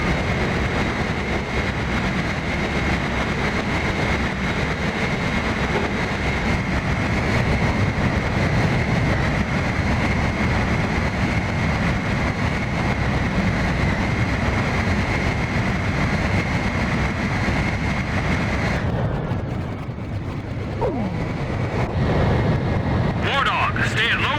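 A jet's engines roar steadily and loud throughout a mid-air refueling in the combat flight game Ace Combat 5, with radio voices speaking over the noise and a slight change in tone near the end.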